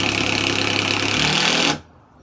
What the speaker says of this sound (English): I'm drilling a pilot hole so it pulls it tight onto the previous layer.